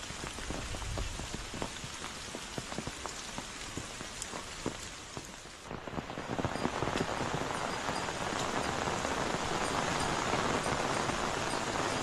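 Rain falling on tree leaves at a secluded waterfall, steady close dripping that swells into a heavier, fuller downpour about halfway through, no voices.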